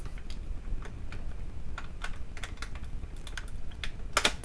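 A foiling machine feeds pattern paper through its rollers, giving a fast irregular run of light clicks and ticks with a brief sharper rattle near the end as the sheet slightly jams.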